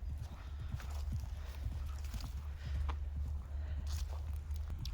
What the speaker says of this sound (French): Voilà, un petit trot tranquille.